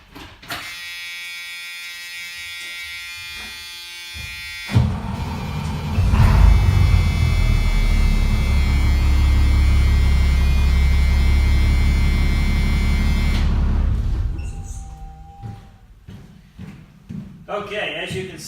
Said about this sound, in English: Okay, as you can see, I was easily able to start the bus.